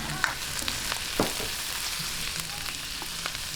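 Shiitake mushrooms sautéed in a pan with garlic for a sweet and spicy chicken pasta, producing a loud continuous sizzle with a few small clicks and stirs of a utensil against the pan.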